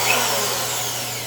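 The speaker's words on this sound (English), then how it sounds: "we're going to use this drill to finish drilling the rest of these holes" A power drill bores holes for a toilet flange through tile, running as a steady, loud whine throughout without pause.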